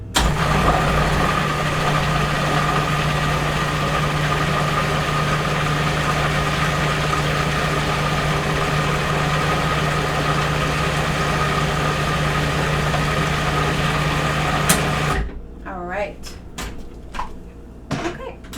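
A food processor spins vegan gingerbread cookie dough with a steady, loud motor whir that holds constant for about fifteen seconds, then stops, leaving a few faint clicks and knocks.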